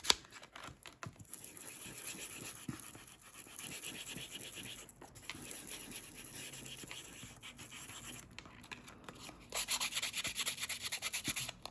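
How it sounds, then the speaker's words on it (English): Paper cards being sanded along their edges for a junk journal craft, a steady close scratchy rubbing that runs nearly continuously, pausing briefly and growing a little louder toward the end, with no talking. "Again, I think I want to sand it a bit."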